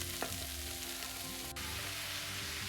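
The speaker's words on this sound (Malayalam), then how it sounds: "ഇനിയും ഞാൻ മഷ്റൂം ഇതിലേക്ക് ചേർക്കുകയാണ്" Mushrooms fry in a pan of sautéed tomato for a Kerala-style theeyal, giving a continuous moderate sizzle with a brief clink near the start and no voices.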